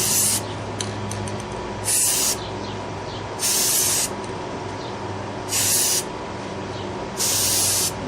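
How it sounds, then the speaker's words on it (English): Aerosol spray paint hissing onto a steel wheel rim in four or five short, even bursts with steady pauses between them, close and fairly loud over a faint background hum. "on this spray paint, you want to hold it roughly about a foot away."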